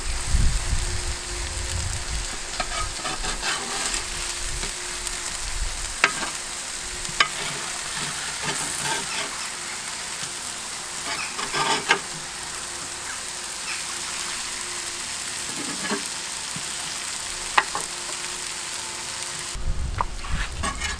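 Bacon frying on a kamado barbecue gives a steady, close crackling sizzle with scattered sharp pops, running continuously for about twenty seconds with no talk.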